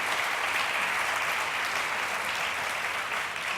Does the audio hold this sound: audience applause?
yes